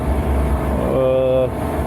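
A Niftylift HR12 access platform's engine turns over briefly on the key switch, a low steady cranking drone with a rising mechanical whine partway through, loud and close.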